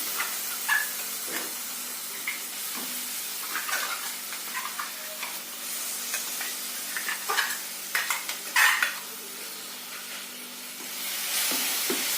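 Regupandu (jujube) chutney sizzles as it is stirred in a pan with freshly fried tempering, giving a steady crackle with repeated scraping spoon strokes and a few sharper clicks, close and moderately loud with no talking.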